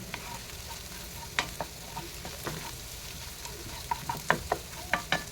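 Capsicum and egg sautéing together in a pan for egg rice make a soft continuous sizzle broken by irregular spatula scrapes and clicks, which grow busier toward the end, up close with no voices.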